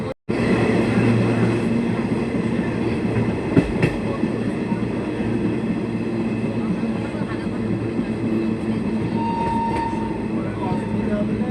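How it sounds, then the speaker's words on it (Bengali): A train runs on after pulling out of Bolpur station toward Rampurhat, with a loud, continuous rail rumble and roar that holds steady and close throughout. "বোলপুর থেকে ট্রেন ছেড়ে দিয়েছে"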